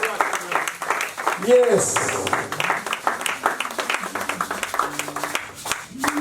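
A church congregation applauding and cheering, a burst of clapping mixed with many raised voices, loud and close throughout.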